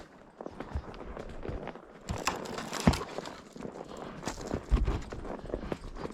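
A tired horse walks on a Montana cattle drive, its hooves clip-clopping in a steady, close rhythm over about six seconds, with brushy rustling and a few louder thuds.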